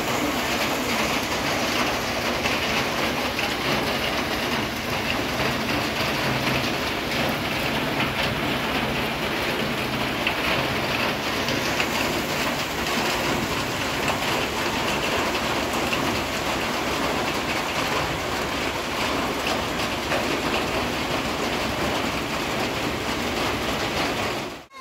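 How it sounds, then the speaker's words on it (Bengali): Heavy rain hammers a tin shed roof in a dense, unbroken roar, loud and steady throughout with no voices heard. "বাইরে বৃষ্টি হচ্ছে আর ঘরের মধ্যে আওয়াজ এরকম"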